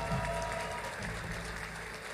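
Audience applause at the Miss Poland pageant greets finalist Karolina Bielawska as the top five is announced, a brief burst of clapping mixed with music and crowd noise.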